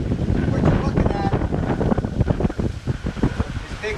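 Big ocean swells striking a sailboat broadside on passage to the Exumas, a loud, rushing wash of water and wind buffeting against the hull, continuous and close with someone talking over it.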